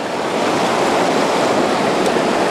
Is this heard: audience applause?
no